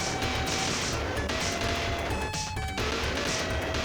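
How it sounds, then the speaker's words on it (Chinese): Bombs dropping and exploding in the P-47 arcade shooter game. A dense, continuous barrage of crashing blasts and rapid gunfire stays loud throughout. "游戏最常用的武器就是向下扔的炸弹"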